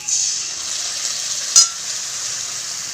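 Ground spice paste frying in a pan with potato and eggplant for a Thakurbari-style begun bori dish, a steady close sizzle with one sharp stir or scrape near the middle.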